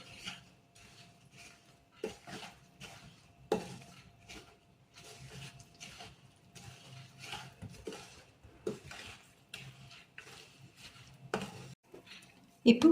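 Rava laddu mixture being mixed by hand in a bowl after melted ghee is poured in, with faint irregular scrapes and clinks over a quiet background and a louder knock at the end.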